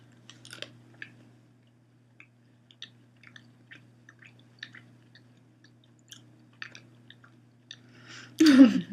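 Starburst jelly beans are chewed close to the mic, with soft sticky smacking and small clicks scattered over a quiet room hum, ending in a louder crunchy, breathy burst.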